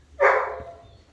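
A dog at an alpaca ranch gives one sharp, fairly close bark, followed by a quiet tail-off and faint background noise.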